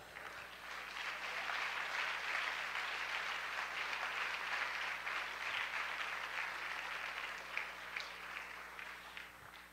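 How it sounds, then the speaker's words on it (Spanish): A church congregation breaks into sustained applause during a service, a broad, steady roar of many hands clapping that swells and eases over about ten seconds, heard at moderate distance. "Dale un aplauso a Dios."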